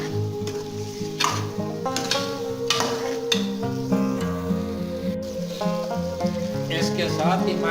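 Carrots, peas and potatoes sautéing in a pan, giving a steady sizzle with scraping and stirring clatter, under someone speaking throughout.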